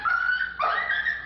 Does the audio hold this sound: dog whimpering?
yes